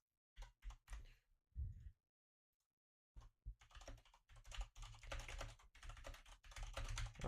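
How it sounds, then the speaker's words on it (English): Mechanical computer keyboard typing, a short burst of clicks, a pause of near silence, then a denser run of rapid clattering keystrokes, close and fairly quiet. "is the mechanical keyboard, the click click click click click, a little too annoying?"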